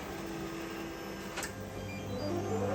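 Mimaki JFX200ex flatbed printer raising its print head and switching on its vacuum bed: a steady mechanical hum with a low tonal drone that swells slightly toward the end, with a brief soft click midway.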